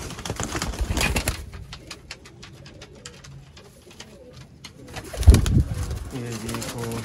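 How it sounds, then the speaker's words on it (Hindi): Batera breed pigeons coo in low soft bursts near a person, with bright chirps and a sudden flutter or thump midway, followed by rhythmic repeated cooing toward the end. "बटेरा ब्रीडर कबूतर आपकी स्क्रीन पे।"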